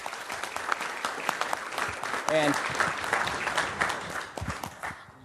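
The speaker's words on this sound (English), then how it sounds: "So I'd like to give them a round of applause." Steady applause from a crowd at a city council meeting in West Covina, sustained and moderately loud, briefly overlapped by a voice, then thinning toward the end.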